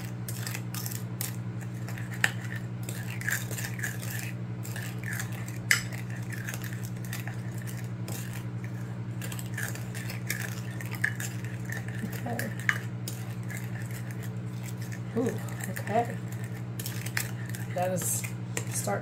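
Sauce being stirred to dissolve in a small bowl, with light clinks and scrapes of a utensil against the dish over a steady background hum, close and intermittent.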